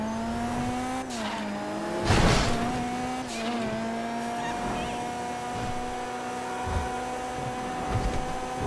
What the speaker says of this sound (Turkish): Efsane, efsane gidiyor yalnız araba.